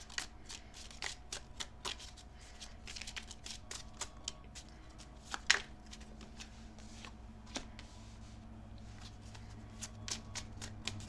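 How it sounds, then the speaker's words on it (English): Tarot cards being shuffled close up, quiet riffling bursts and soft flicks repeating irregularly over a faint low hum. "I'm going to shuffle out all the cards"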